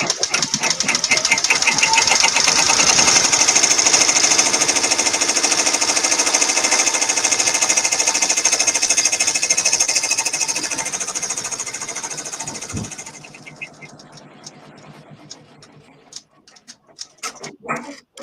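An embroidery machine stitches a wallet in the hoop, a steady, loud mechanical whirring and rapid needle chatter for about thirteen seconds before it winds down and stops, leaving a few scattered clicks and handling noises.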